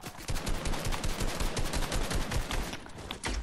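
Dense, continuous gunfire in a video game, rapid automatic shots overlapping in a loud, close barrage that runs without pause for a few seconds.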